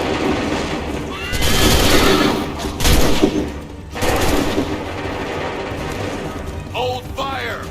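Several gunfire volleys, apparently fired on command, ring out as sharp repeated bursts with loud broad blasts around two to four seconds in. Commands are shouted over them, and a horse whinnies near the end.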